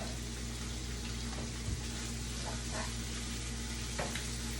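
Ackee and saltfish sautéing in a pan, giving a steady, quiet sizzle with faint occasional stirring clicks throughout.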